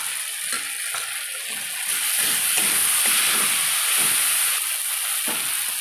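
Ginger paste hisses and sizzles in a hot pan with turmeric while a light chicken curry cooks in little oil, a steady close bright frying hiss with soft bubbling pops.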